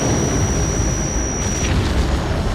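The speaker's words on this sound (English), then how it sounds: "Oh, they just blew up the missile." A missile blows up in the 1971 James Bond film Diamonds Are Forever, a loud, dense rumbling blast that roars continuously over a faint high tone.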